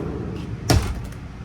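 A bedroom door in a 2026 Forest River Salem FSX 266BHLE bunkhouse travel trailer swings shut and catches on its wall magnet with a single close, sharp thud over a steady, noisy background.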